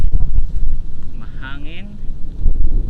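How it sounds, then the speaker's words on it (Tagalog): Steady wind rumbles and buffets the microphone with low, gusty roar throughout at a fishpond, while a person speaks over it. "So medyo mahangin po guys."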